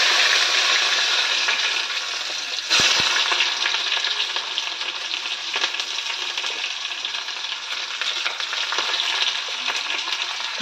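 Bay leaves fry in hot oil before pumpkin and local meat curry, a loud close hiss of steady sizzling with a brief clink partway through.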